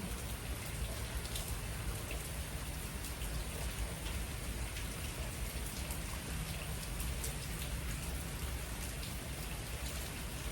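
Steady rain falls continuously, a dense hiss of drops pattering on surfaces with no voices, holding an even level throughout.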